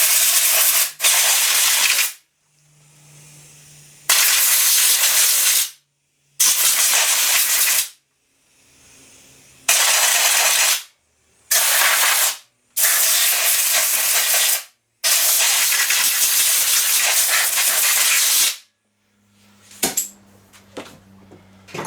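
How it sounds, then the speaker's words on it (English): Compressed air from a blowgun blasts dirt and debris off the engine around the coil and flywheel of a Murray lawn tractor, loud hissing bursts repeating in several long and short gusts with quiet gaps between them, and a few light clinks near the end. "I grab a blowgun and blow some of that stuff out of there."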